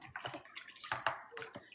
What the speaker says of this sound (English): on va se laver les mains